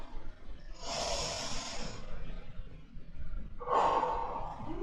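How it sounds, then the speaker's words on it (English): Two slow, deep breaths drawn and released during a beginner yoga session, each a soft airy inhale-exhale heard up close with no talking. "Take a little breath."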